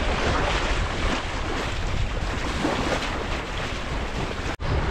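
Steady, broadband wind roar buffets a sailing boat at sea in light winds, with water rushing past the hull, loud and continuous throughout with a brief dropout near the end.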